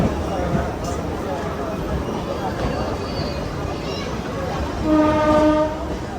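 A through train passes a railway platform with a loud, continuous rumble of wagons, and a horn sounds near the end; public-address announcements play over the train noise.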